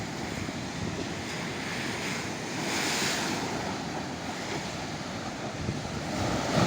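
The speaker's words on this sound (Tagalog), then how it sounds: "At lalaki talaga ng alon." Large ocean waves crash and roll onto the shore during a typhoon, a steady, full roar swelling in surges, with heavy wind buffeting the microphone throughout.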